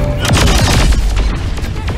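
Loud, heavy explosions boom in quick succession in Saints Row 4 during a final boss battle, rumbling and overlapping like video game blasts, with bursts of crackling debris.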